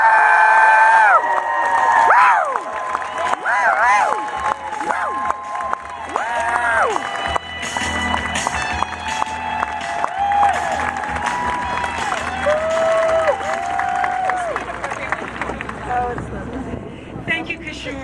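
A crowd at an outdoor science march in San Francisco cheers, whoops and applauds continuously, with shouts and whistles rising over the clapping at close range.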